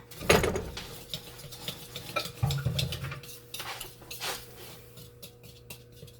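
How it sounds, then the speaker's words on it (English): Cupcake batter being stirred with milk in a bowl, a utensil scraping and clinking against the sides in irregular strokes, close and moderately loud with no talking. "Addie's going to keep on stirring until it gets smooth."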